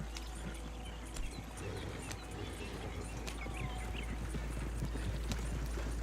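Horse hooves clip-clopping steadily as a wagon is pulled in Red Dead Redemption 2, a rhythmic mid-distance trot over a low rolling rumble with faint creaks.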